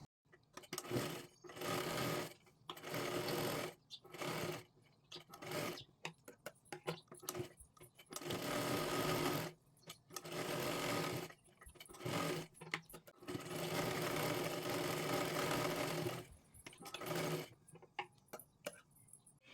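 A sewing machine stitching a katori blouse runs in repeated bursts of steady whirring, stopping and starting, close and fairly quiet.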